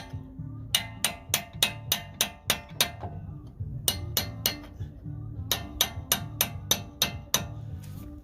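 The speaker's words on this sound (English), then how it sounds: "you have to get a punch and hammer it with a mallet to knock that out of there" Sharp metallic strikes ring out in quick bursts of several blows each, a mallet hammering a metal punch up close to knock out a Chevy Tahoe CV axle, with brief pauses between rounds.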